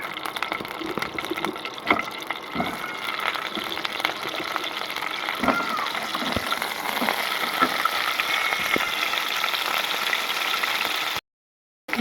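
Mixed winter vegetables fry in a small amount of butter for Gobindobhog rice khichuri, giving a steady, close sizzle with scattered crackles and stirring clicks, then a brief silence near the end.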